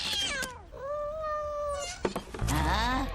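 A cartoon cat lets out a drawn-out, whiny meow near the mic, followed by a few short cries and a rougher yowl, with faint background noise between.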